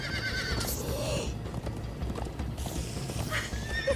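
Horses gallop in Minecraft: Story Mode with dense, rapid hoofbeats and a whinny. The drumming of hooves runs continuously under a bright, noisy game soundscape.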